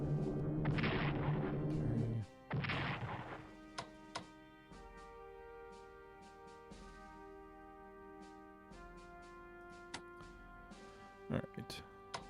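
Artillery in the strategy game Strategic Command: WWII fires in two heavy booming blasts, followed by quieter scattered thuds and clicks over a steady game music bed.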